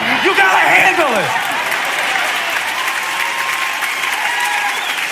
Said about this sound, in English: Why are you clapping for me?